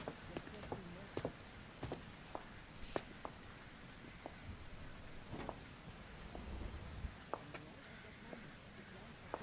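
Rain patters steadily with occasional low thunder rumbles in the video game The Invisible Hours, faint and close, with a voice talking over it.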